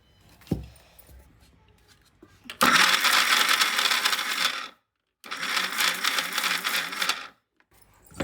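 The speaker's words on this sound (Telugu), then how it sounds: "కొద్దిగా పిండి కొద్దిగా బెల్లం వేసి మిక్సీ పట్టుకుంటే మంచిగా రెండు కలిసిపోతాయండి" A kitchen mixer grinder blends urad flour with jaggery in two loud bursts, each about two seconds long, with a short pause between them, after a few faint knocks at the start.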